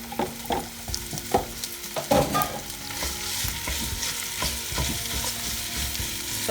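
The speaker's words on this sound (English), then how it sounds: "So I put my meat into it." Meat sizzles in a very hot pan for a chow mein dish, a steady frying hiss broken by clattering stirs and scrapes of a utensil, close and without talk.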